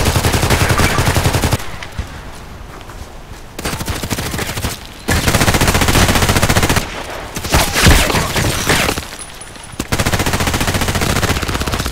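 Rapid automatic bursts from a KAC PDW rifle in the shooter game Contract Wars, loud and dense, several long sustained strings of fire separated by short pauses.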